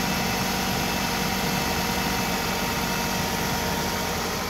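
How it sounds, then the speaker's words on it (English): A 2004 Toyota RAV4 with a 2.4 liter engine idles after a rollover, a steady, dense, continuous rumble that stays close and even throughout with no talking. "So I got the motor running here."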